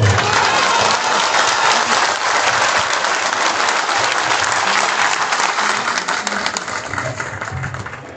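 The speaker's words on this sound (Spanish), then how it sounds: "recibamos con un fuerte aplauso" A packed crowd at a political rally in Maravatío gives a senator loud, sustained applause, dense steady clapping that fades slightly toward the end.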